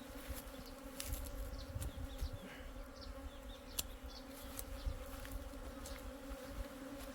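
A swarm of honey bees buzzes continuously in the mountains, a dense steady hum with individual bees zipping close by now and then.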